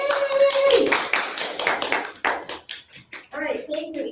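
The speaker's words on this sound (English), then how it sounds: "Everybody applaud." A school class applauds, a burst of clapping from children and adults lasting a few seconds, with a cheer and scattered children's voices as it tapers off.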